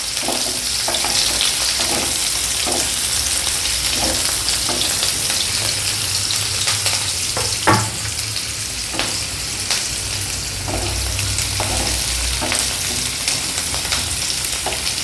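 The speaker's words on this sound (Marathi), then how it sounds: "मी गॅसवरती तेल तापत ठेवलं आहे। त्याच्यात आपण सगळ्यात पहिले कांदा घालूया।" Chopped onion frying in hot oil in a pan on a gas stove, a dense continuous sizzle close by with repeated scraping and stirring strokes through it, no talk.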